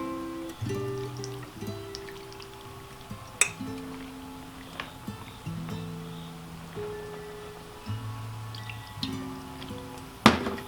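Water trickling and dripping into a jar of fermenting peppers during home vegetable fermentation, with soft splashes, drips and a few light glass clinks, fairly close and quiet.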